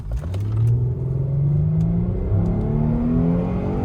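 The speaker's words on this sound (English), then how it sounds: "let's see how fast this car can take off. Hit it as hard as you can." A 2007 Mercedes-Benz E350 4Matic engine revs up hard, its pitch climbing in repeated surges as it accelerates away, loud and close with no talking.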